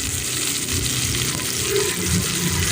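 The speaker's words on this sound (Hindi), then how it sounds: "पैन में हमने ऑयल ले लिया, उसमें प्याज डाल दिया ब्राउन होने के लिए।" Steady sizzling and crackling of onions frying in hot oil in a pan, continuous and close, with no voices.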